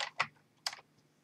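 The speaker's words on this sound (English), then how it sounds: "Just type the password" Soft keystrokes as a password is typed on a computer keyboard, two or three quick close taps in a quiet room, no talking.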